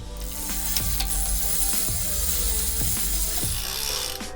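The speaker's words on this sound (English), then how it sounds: "Again, rotating the pedal backwards." A bicycle freewheel ratchet clicking steadily as the pedal is turned backwards, a close, continuous rapid ticking with periodic slower clunks, no talking.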